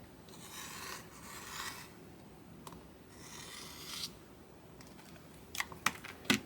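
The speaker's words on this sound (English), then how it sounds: "And then we're going to cut straight across the bottom." A rotary cutter slices straight across quilt fabric along a ruler on a cutting mat, with soft rasping strokes and a few sharp clicks and taps near the end, no talk over it.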